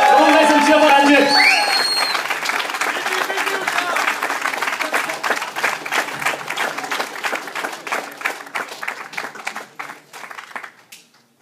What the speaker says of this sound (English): Come on, guys, and cheer for Ranjit.